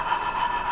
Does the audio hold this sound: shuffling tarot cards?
no